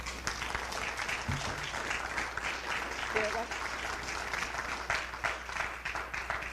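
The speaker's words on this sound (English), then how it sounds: "these are the ones that need the round of applause" An audience at a school board meeting gives a steady round of applause, dense clapping that continues throughout the stretch, with speech mixed in over the clapping.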